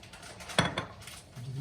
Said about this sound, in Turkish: şimdi doğradığım yağlı kısımlarını düdüklüme alıyorum